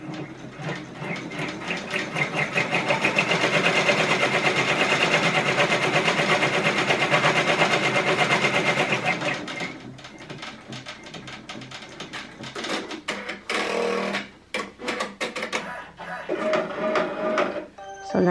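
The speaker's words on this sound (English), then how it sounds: "it's going to stitch on top, and that stitch is to show us where we cut it." An embroidery machine stitches a placement line on fabric while making an applique on a shirt. A dense, rapid mechanical whir runs continuously for about nine seconds, then gives way to quieter, intermittent clattering and machine movement.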